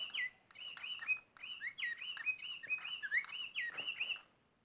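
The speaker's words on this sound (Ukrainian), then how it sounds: "Вона співає, як справжня пташка." A Digi Birds toy bird sings a quick run of bright, repeated chirps and whistled tweets, close and clear against a quiet room, stopping abruptly at the end.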